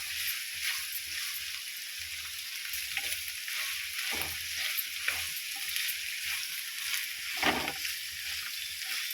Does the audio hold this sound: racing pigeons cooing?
no